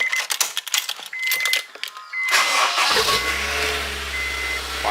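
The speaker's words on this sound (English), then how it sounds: "We're gonna fire it up, take it out the garage, give it a nice cold start." A turbocharged Mitsubishi Lancer cold-starts in a garage: keys jangle and click first, then the starter whirs and the engine catches into a loud, steady, slightly high idle close by.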